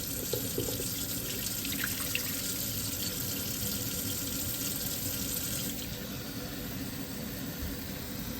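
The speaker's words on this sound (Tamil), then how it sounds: "இப்படி தண்ணியை ஊற்றி வைக்க வேண்டும்" Water pours steadily and continuously while ground pepper and cumin are strained for traditional Jaffna odiyal kool, a close, full rushing flow that eases slightly near the end.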